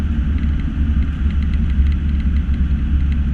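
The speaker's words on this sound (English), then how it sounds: "V8 engine. Like, it's loud, but yeah, it's a little loud." A deep, throaty V8 engine in an LS-swapped Datsun 240Z rumbles steadily nearby, a loud low burble that idles evenly without revving.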